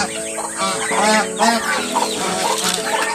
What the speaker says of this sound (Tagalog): Ayan mga peking duck.